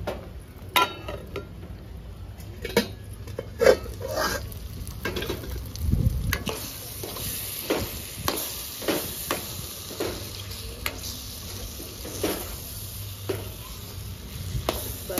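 Mango dal with tomato, onion and drumsticks bubbling and being stirred in a pot on a gas stove, soft sizzling with repeated scraping stirs and light clinks, fairly close, no talk.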